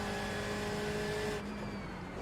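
BMW M8 GTE race car engines in the iRacing simulator at Donington, a loud sustained roar with a steady engine whine that drops in pitch and fades a little as a car passes alongside.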